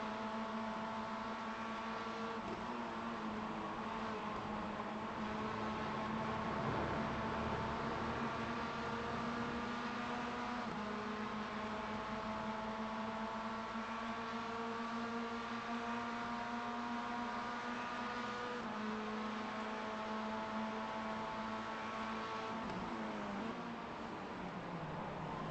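Mazda MX5 Cup race car at full throttle on the Summit Point track, a steady, loud engine drone with rising and falling harmonic tones as it chases the car ahead, a gear change near the end.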